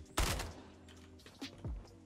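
Sharp gunshots in Fortnite Battle Royale, a loud close shot followed by a couple of fainter distant shots, quick and sparse against quiet game background.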